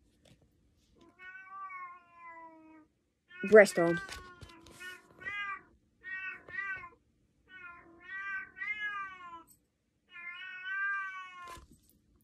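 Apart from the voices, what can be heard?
cat in heat meowing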